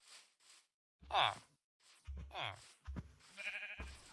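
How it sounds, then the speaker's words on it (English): Sheep bleating in the video game Minecraft, a few short bleats with gaps of silence between them, close and clear, with voices also present. "I heard a sheep."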